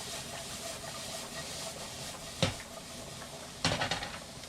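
Japchae noodles and vegetables, with extra carrot, stirred in a hot pan: a steady sizzling hiss broken by two short scraping clatters of the utensil against the pan, the second longer and rougher.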